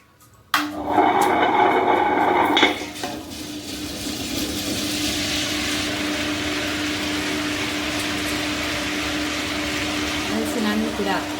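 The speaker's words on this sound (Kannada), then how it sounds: "ಈಗ ಗ್ರೈಂಡರ್ಗೆ ಹಾಕುವ." A wet grinder runs with soaked rice for Mangalore-style jackfruit gatti. It starts with a loud whirring burst, then settles into a steady, even grinding hum that carries on alone to the end.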